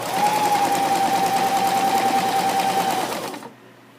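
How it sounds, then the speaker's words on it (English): A sewing machine stitches the first side of a buttonhole, running steadily and close for about three seconds before stopping, with no talk. "I'm going to stitch from this top line down to this one."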